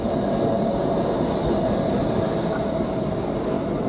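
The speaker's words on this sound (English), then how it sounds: "There are the trams, I catch daily when I'm in Nottingham." Trams rumbling past on street rails in Nottingham, a steady, loud, continuous roll of wheels and motors with no talking.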